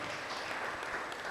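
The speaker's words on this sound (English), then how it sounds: "Can we give him another round of applause?" An audience applauds a professor at a panel discussion on cooking fuels and the energy transition, a dense, steady roar of many hands clapping at once.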